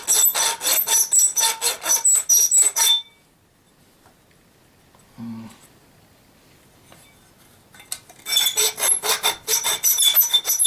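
Rapid rhythmic rasping strokes of a metal file, loud and close, stopping for a quiet stretch with a brief low knock, then resuming in steady back-and-forth bursts.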